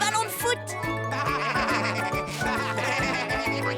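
Cartoon sheep bleat over bright background music with jingling tones, short wavering calls repeating close and loud against the tune.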